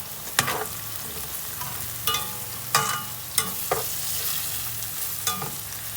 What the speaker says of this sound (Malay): Ini tumis dulu rempah dia.